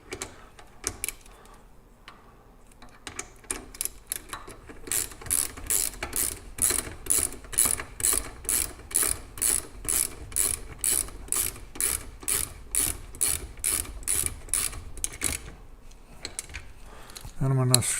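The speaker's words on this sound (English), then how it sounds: "And I'm going to change over to a little bit longer ratchet." A ratchet turning a 15 mm deep well socket while installing Xplor Lucky cartridges, a steady run of loud, rapid clicking strokes close up that lasts most of the stretch, with quieter handling noise at the start and end.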